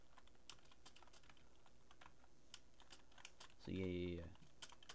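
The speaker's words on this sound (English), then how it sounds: "you hear my keyboard, it's because my keyboard's loud" Loud computer keyboard typing during an NBA video game session, scattered quick key clicks close to the microphone, with a voice speaking briefly partway through.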